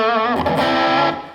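An electric guitar played through a distortion effect with the mid-range tone set at the middle rings out as a thick, sustained chord. The chord is loud and harmonically rich, with a brief restrike partway through, then it fades at the end.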